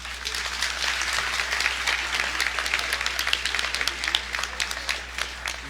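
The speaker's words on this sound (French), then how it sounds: "je vous invite à l'applaudir à nouveau" Steady applause from a large crowd at a university rector's handover ceremony, a dense patter of many hands clapping continuously, with a low hum underneath.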